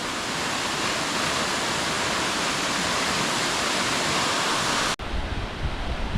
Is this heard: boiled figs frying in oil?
no